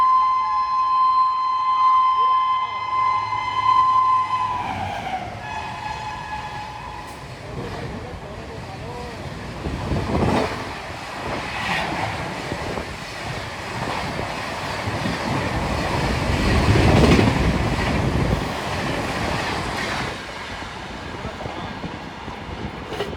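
The Gorakhdham Express, an Indian passenger train, passes at night, heard from aboard another train: a horn blares at first, then a long rushing rumble and rattle of wagons builds and swells, with a voice talking over it.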